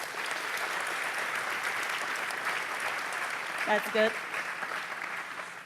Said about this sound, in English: I would like to ask you for applause for our great MCs